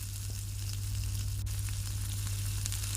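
Steady, close sizzling of chicken frying over low heat in an oiled pan, with a constant crackle and faint clicks over a low hum.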